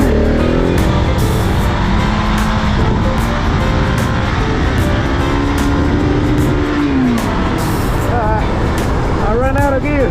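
A motorcycle engine revs hard through a launch at a stunt lot, loud and close, with rising and falling pitch sweeps under continuous talking.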